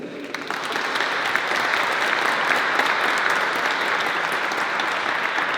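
Steady, dense applause from an audience at a ceremony, sustained and fairly loud throughout with no break, the clapping thick and continuous from start to finish.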